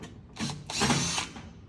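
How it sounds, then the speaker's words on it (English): A power drill backs screws out of the hopper box on a Pellet Pro 2300 vertical pellet smoker, a close whirring run that rises and lasts under a second with a short ratcheting spin-up before it, and no voices. "Take these 4 screws off of here."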